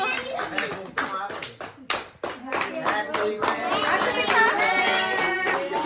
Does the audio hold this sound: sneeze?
no